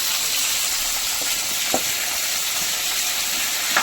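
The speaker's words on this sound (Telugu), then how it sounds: "ఆనియన్స్, టమాటా అన్నీ నూనెలో గోలనియాలి." Onions and tomatoes fry in hot oil with a steady, dense sizzle and hiss that stays even throughout, with a couple of faint clinks and no voices.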